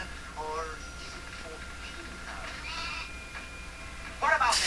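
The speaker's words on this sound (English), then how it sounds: "He's bunted a sheep." A sheep in the Spyro the Dragon video game bleats in short wavering calls, a soft one early on and a louder one at the end, over a quiet game background with a voice talking.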